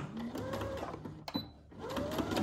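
A sewing machine stitches darts on a Simplicity 1802 Cynthia Rowley dress in two short, quiet runs split by a brief pause.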